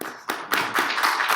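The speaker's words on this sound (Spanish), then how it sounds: "un aplauso para el autor, por favor" A small audience at a book presentation claps for the author in a brief burst of close, sharp hand claps that quickly builds into dense applause.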